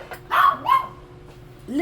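A small dog gives a few short, sharp yappy barks nearby in a home kitchen during carrot cake baking, with a person talking around the barks.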